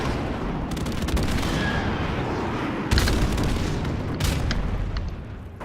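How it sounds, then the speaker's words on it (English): An airstrike in Call of Duty 4 Remastered, with heavy booming explosions over continuous rumbling gunfire and a few sharp louder blasts, no talk during it. "uh-oh, airstrike."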